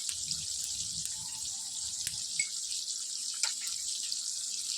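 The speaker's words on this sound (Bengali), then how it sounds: "এর মধ্যে এটা আমি জল দিয়ে অল্প গুলে নেবো।" Water is poured into turmeric, Kashmiri red chilli and hot chilli powders for mixing, a soft trickle and faint drip-like splashes with a steady background hiss, quiet and with no speech.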